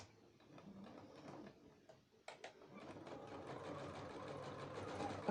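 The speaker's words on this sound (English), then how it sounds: "I'm just going to sew in ordinary mode now" A domestic sewing machine runs steadily in ordinary straight-stitch mode, sewing a quarter-inch seam on a fabric Christmas stocking, a continuous moderate mechanical whir close by with a short pause partway through, no talking.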